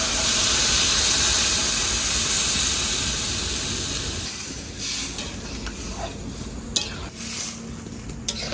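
Water goes into a hot pan of browned Bengali-style mutton curry with spices. It gives a loud burst of hissing and sizzling that slowly dies into a softer bubbling simmer, with a few clinks of a utensil against the pan.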